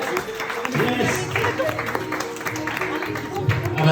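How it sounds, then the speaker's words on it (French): Audience applause for a winning team at a French game show, a steady wash of clapping from a crowd lasting several seconds, with voices mixed in underneath. "Applaudissements s'il vous plaît, ils sont à l'extérieur."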